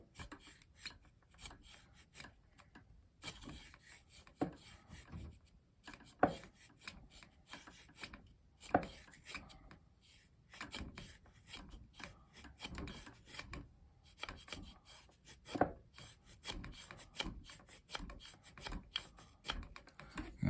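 A TOPS Tom Brown Tracker T-1 knife carves small curls from a piece of Osage orange hardwood. Faint, close, irregular rasping scrapes repeat stroke after stroke, with no speech.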